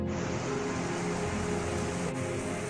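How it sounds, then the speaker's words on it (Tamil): Steady broadband hiss of rain falling, constant and enveloping without clear individual drops, no voices over it. "இப்போ மழை ஆரம்பிச்சிருச்சு."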